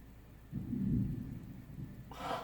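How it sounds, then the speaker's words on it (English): Distant thunder rumbles on a sunny day, a low swelling roll that builds, fades and rises again, heard alone without talk. "That's actual thunder, and I mean it's sunshine out."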